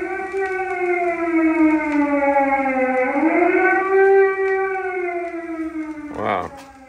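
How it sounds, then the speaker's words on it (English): A Soviet air raid siren wails, rising and falling in long sustained tones with strong harmonics, loud and steady, ending in a brief burst of noise. "So now you heard a Soviet air raid siren."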